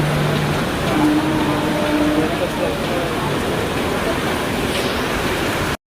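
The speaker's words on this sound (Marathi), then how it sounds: "पाऊस बघू शकता तुम्ही, एवढा आहे. खूपच पाऊस आहे." Heavy monsoon rain roars in a constant wash of noise near Dahanu, with a faint engine-like hum underneath and a brief dropout near the end.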